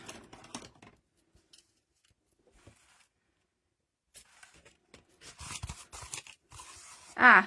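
Paper cut with scissors while building a handmade journal: scattered soft snips and rustles, then a louder burst of crisp cutting and crunching near the end, with stretches of near silence between.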